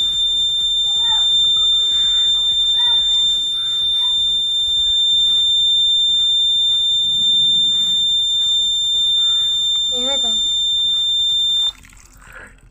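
A homemade soil moisture sensor's buzzer gives a steady, piercing electronic tone under background chatter and water being poured, then cuts off near the end as the soil gets wet.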